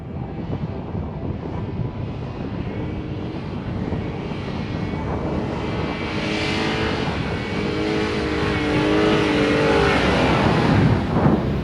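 A Jeep Gladiator drives up the Big Red sand dune in the Simpson Desert, its engine droning steadily and strengthening as it climbs. Heavy wind buffets the microphone throughout.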